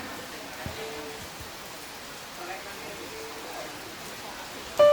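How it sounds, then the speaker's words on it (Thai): Heavy rain pours over an outdoor stage at Central Chiang Rai mall in Thailand, a soft, even hiss that holds steady throughout and ends with a brief louder bump. "ฝนตกแล้วนะคะ"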